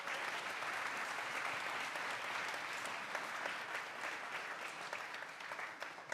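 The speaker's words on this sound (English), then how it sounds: "A round of applause for all of them again." An audience at a concert claps steadily in sustained applause, a dense even patter that holds throughout with no voices standing out.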